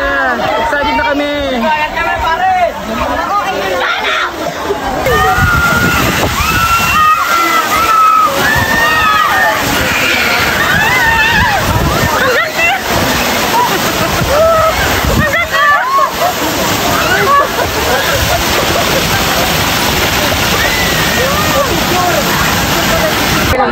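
Water sloshes and splashes loudly at a resort pool ride, with continuous rushing and surging water under excited chatter, shouts and a crowd's babble throughout.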